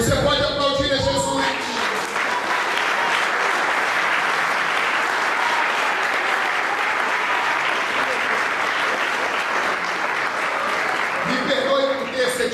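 A church congregation applauds in worship, a dense, steady wash of many hands clapping that fills the room for about ten seconds, with a voice heard briefly at the start and end.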